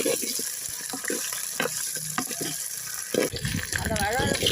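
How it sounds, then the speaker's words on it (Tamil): Okra, shallots and curry leaves sauté in hot oil, a steady broadband sizzle with intermittent stirring scrapes and clinks, and a voice speaking briefly near the end. "அந்த வழவழப்பு போகிற வரைக்கும் எண்ணெயிலேயே வதக்கிக்கலாம்"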